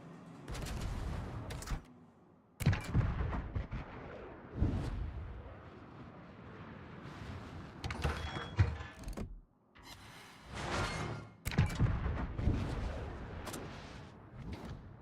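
Missile and artillery fire in World of Warships, a series of heavy booming blasts and impacts arriving in irregular bursts with brief gaps between them, loud and close.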